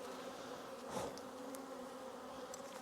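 Honey bees buzz steadily around an open hive during frame swapping, a dense close drone with a few louder passes of single bees near the ear.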